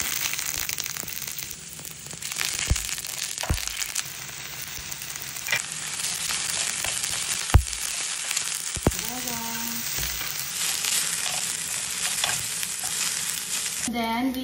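Oil sizzles and crackles in a pan as ingredients for udon are sautéed and stirred. There is steady loud frying with occasional scrapes and clanks of a utensil against the pan.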